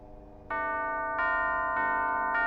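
Bell tones struck one after another to unlock a door in the video game Alice, four loud ringing strikes with sustained overlapping tones.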